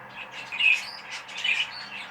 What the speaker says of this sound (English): I'm hoping that you can still hear me over the top of the very noisy birds